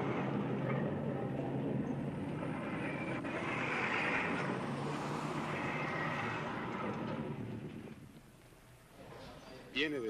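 A small single-pilot light aircraft arriving from Central America drones steadily through the scene, a broad engine hum that swells and fades, with people talking over it.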